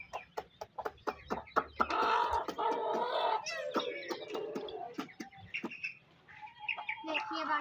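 Hens and chicks cluck and peep in a rapid, irregular stream at close range in a backyard coop, with a person talking quietly now and then among them.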